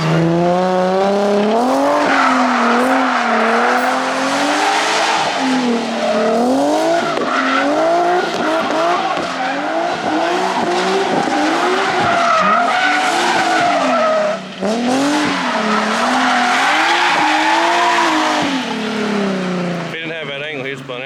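Drift car sliding through a corner at Sweetwater Motorplex in Niota, Tennessee, its tires squealing loudly and continuously for about twenty seconds as the engine rises and falls beneath, with people talking over it.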